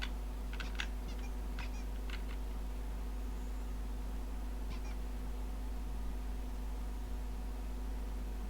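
A typewriter in Alan Wake Remastered gives a few sparse, light mechanical clicks in short clusters over a steady low hum, without speech.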